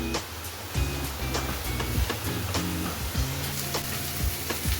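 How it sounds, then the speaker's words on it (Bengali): Onions frying in oil, a faint continuous sizzle with low rumbling, some soft knocks and tonal hums heard close by, no talking. "ভালো করে এটাকে পেঁয়াজটাকে আমি ভাজবো নাহলে কাঁচা পেঁয়াজের একটা গন্ধ ছাড়বে"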